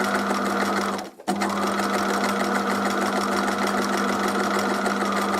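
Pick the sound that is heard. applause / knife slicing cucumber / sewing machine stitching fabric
sewing machine stitching fabric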